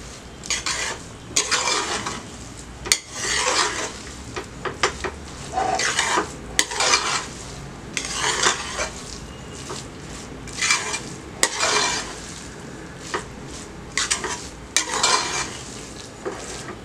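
Dal rice is mixed in a metal pot with a spoon, giving rhythmic scraping and clinking strokes in bursts over a faint sizzle, close and fairly loud.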